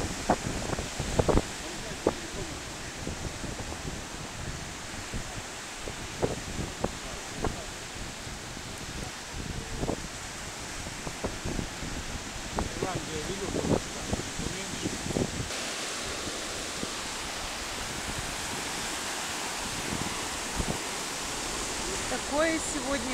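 Broadband wash of surf rolling in at a beach in Goa, India, steady and fairly close, with scattered short splashes and knocks through the clip.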